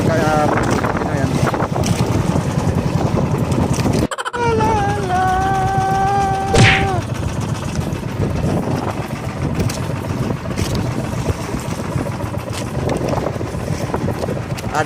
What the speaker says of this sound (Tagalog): Yung isang bangka.